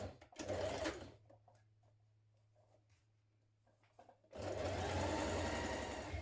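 A sewing machine stitches a shirt yoke seam in two loud bursts, one short at the start and a longer steady run at the end, with a quiet pause of faint clicks and handling between them.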